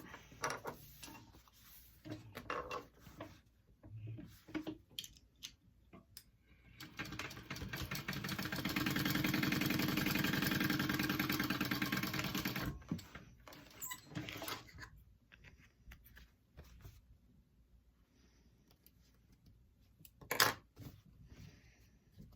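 A sewing machine top stitching a fabric hip bag runs in one steady, fairly loud continuous burst in the middle, with quieter handling clicks and rustles before and after.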